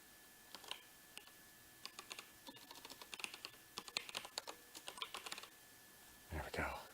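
Keys tapped on a computer keyboard while entering a first name into a PC game, a close, quiet run of irregular clicks with short pauses, ending in a brief shuffling rustle.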